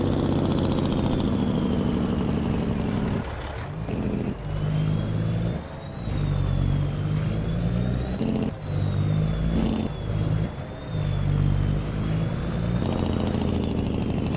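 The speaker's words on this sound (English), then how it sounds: "A lot of towns in America will not allow Jake brakes to be used in town." A truck's Jake brake in Farming Simulator 25 produces a loud, continuous, throbbing engine rumble with pulsing dips and a thin whine above it, close and with no voices.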